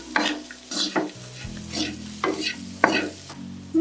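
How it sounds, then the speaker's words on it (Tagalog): A spoon stirs canned tuna sisig with onions in a hot frying pan, several loud scraping strokes over a steady sizzle, close and with no talk. "So, ngayon, mix na natin yan."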